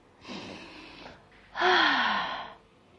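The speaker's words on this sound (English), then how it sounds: "take a few deep breaths and breathe" Two deep breaths, a softer first one followed by a louder, longer inhale-exhale, close and alone with no talk.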